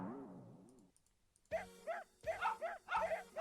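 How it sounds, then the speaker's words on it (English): Several dogs bark in the ToHeart2 video game, sharp repeated woofs coming in quick overlapping bursts after a brief quiet gap, loud and close over a faint game background. "While being barked at by dogs, I run around the garden"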